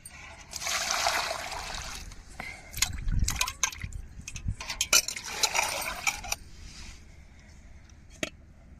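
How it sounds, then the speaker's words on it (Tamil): Water trickles and splashes in bursts while freshly cut pomfret is scrubbed and rinsed outdoors, with occasional metallic clinks of a vessel and a faint voice in the background. "இப்போ மீன் வெட்டி நான் உரசி கழுவிக்கிட்டு இருக்கேன்"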